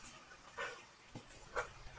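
A dog gives a few short, faint yips and whimpers spread across two seconds, quiet and somewhat distant, with no talking over them.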